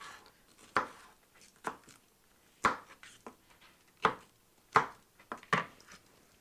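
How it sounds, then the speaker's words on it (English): A knife chops food on a cutting board in a home kitchen, the pieces destined for a blender; sharp, close strikes land at an uneven pace, a few seconds apart, with no talking. "So now we're just going to continue cutting."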